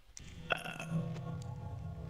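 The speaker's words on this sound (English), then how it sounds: "Sorry, I keep burping like a freaking pig." A single loud, close burp erupts early and trails into a low rumbling drone that fades out, with no other sounds around it.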